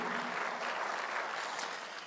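A church congregation claps together in praise, a soft, steady wash of many hands that sounds fairly distant and continues evenly throughout without any voices.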